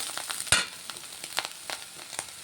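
Garlic frying in a pan for bitter gourd fry, a soft steady sizzle broken by occasional stirring scrapes and one sharper clack, no talking.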